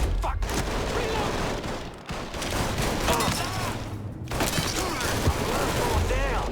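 Rapid automatic gunfire in the video game Mafia III, dense bursts of shots with mechanical clatter filling the scene, briefly dropping out twice, while voices shout over the shooting.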